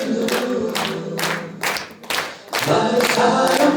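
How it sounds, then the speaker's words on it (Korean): A crowd at a health product presentation claps in rhythmic bursts, loud and close, with brief pauses between rounds and some cheering mixed in. "박수 치세요."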